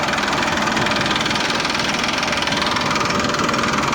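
A GPS-guided driverless tractor engine runs loud and close, a steady rumbling idle with a throbbing rhythm.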